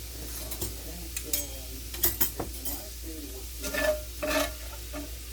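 Cooked meat stirred in a pan for a pantry meal, with scraping utensil strokes and clinks against the pan at an irregular pace over a low background hum and faint sizzle.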